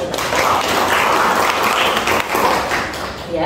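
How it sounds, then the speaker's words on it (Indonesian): Audience applause at a school education event, a full room clapping loudly and evenly for several seconds, fading slightly at the end, with no voices on top. "Tepuk tangan untuk kita."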